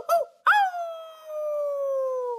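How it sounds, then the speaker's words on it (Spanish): A dog gives a short yelp, then a long, wavering, howl-like note at a medium pitch, close and clear with no talk. "La perrita Jen tiene un ladrido intermedio."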